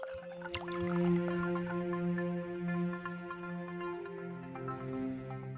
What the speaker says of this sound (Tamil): குழம்பு தாளிக்கிறதுக்கு ஒரு பேனில் தேவையான அளவு நல்லெண்ணெய் ஊற்றிக்கணும்